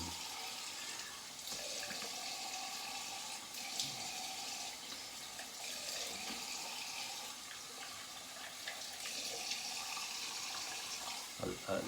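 Soap being rinsed under a running tap, a steady close rush of water into a sink that continues throughout with a few splashes.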